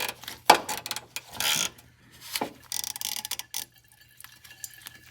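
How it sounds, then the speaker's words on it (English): A ratchet with a 10 mm swivel socket on a long extension cranks open the engine block coolant drain on a Lexus, sounding as bursts of clicking and scraping between quiet pauses, with a metallic knock near the start. "I'm gonna go ahead and open that up with a 10 millimeter swivel on a long extension."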